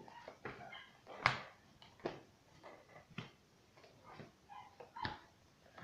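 A neighbour's dogs give a few faint distant barks and whimpers, spaced irregularly against a quiet room.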